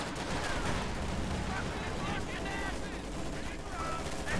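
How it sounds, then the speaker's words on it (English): Maxim machine gun firing in Company of Heroes 2, with rattling bursts inside a dense, loud mix of battle noise while a commentator talks over it. "We got the Maxim there, forced away."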